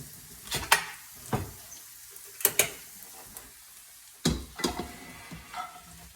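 Vegetables being stirred into lentils in an Instant Pot, a few short scraping and clattering bursts with soft sizzle-like rustling between them, close and moderately loud, no talking.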